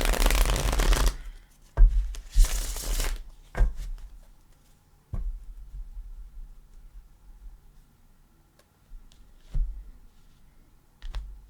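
Tarot cards from the Gilded Tarot deck are shuffled in two loud riffling bursts, then single cards are drawn with scattered soft clicks and slides across a quiet table.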